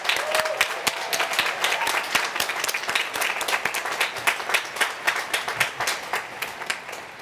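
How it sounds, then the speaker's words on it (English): Ceremony audience applauding a graduating law school class, sustained crowd clapping with sharp individual claps standing out near the front, steady and lively throughout without talk. "Let's give the class of 2019 a big round of applause."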